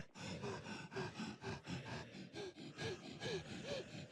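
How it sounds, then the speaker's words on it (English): Labored, heavy breathing in a zombie video game, a steady run of rapid gasping breaths at close range, loud and continuous with no talk over it. "Someone breathing here real tough."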